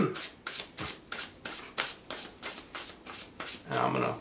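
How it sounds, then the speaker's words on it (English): A deck of cards for a Magic: The Gathering Commander game is riffle-shuffled again and again in quick rhythmic bursts, close and crisp, with people talking quietly around the table. "Shuffle my deck, please."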